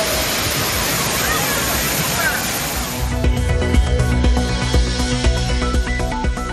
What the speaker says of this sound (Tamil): ஆர்ப்பரித்து கொட்டும் நீரில் காலை முதலே குடும்பத்துடன் ஆனந்த குளியல்.